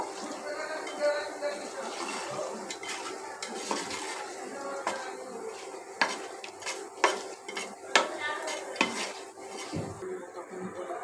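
Whole spices including coriander seeds fry in oil for a mutton curry tempering, giving a steady close sizzle broken by repeated sharp clicks and scrapes of a spoon stirring against the pan.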